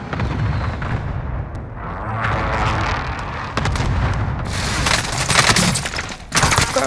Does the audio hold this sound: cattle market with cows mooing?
no